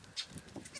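Baby goats, young male wethers in a small farm herd, bleat in a brief, faint cluster of high calls layered together.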